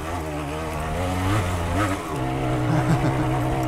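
A DT175 motorcycle engine revs steadily as it climbs a severely rutted hill in the woods, holding high RPM with a continuous, loud droning tone that rises and wavers throughout.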